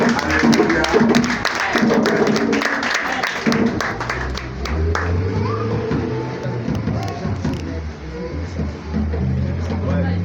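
A church congregation on its feet claps and cheers to acclaim the Lord, a dense, loud burst of applause and crowd noise that fades into murmuring voices and a low hum.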